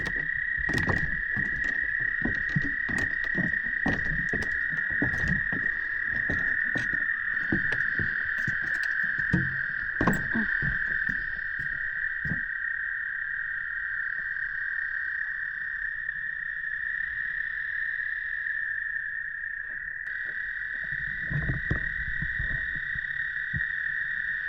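A chorus of spring peeper frogs rings out as a steady, dense high-pitched piping, with rustling footsteps and thuds nearby in the first half before it goes quieter.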